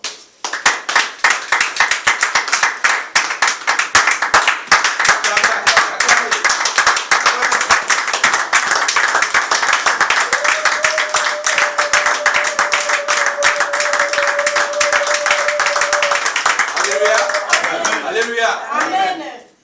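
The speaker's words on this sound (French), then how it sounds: "Acclamons pour ça." A congregation at a Sunday church service clapping and applauding: dense, loud, continuous hand clapping for nearly twenty seconds, with a sustained voice and cheers rising near the end.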